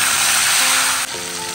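Five-spice and green chillies hit hot oil with a loud, steady sizzle that drops slightly partway through, close and without talk.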